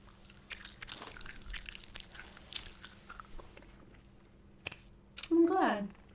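Blow Pop bubble gum being chewed close to the mic, with soft wet smacks and clicks in an irregular rhythm, ending in a louder squishy burst near the end.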